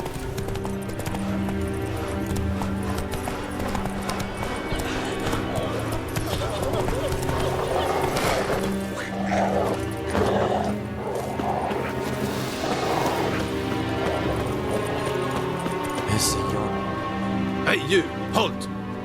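Roach the horse gallops through The Witcher 3 in a steady, rhythmic clip-clop of hooves that carries through the whole stretch under game ambience, with a brief spoken command near the start.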